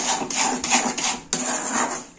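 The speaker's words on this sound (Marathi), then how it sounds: "आपल्याला हे तीळ टाकून घ्यायचे आणि एकदम पटपट हलवायचं" Sesame seeds are stirred quickly in a metal pan with the gas turned off while making til papdi sesame brittle. A spoon scrapes the pan in a close, rhythmic series of strokes with a sharp clack in the middle.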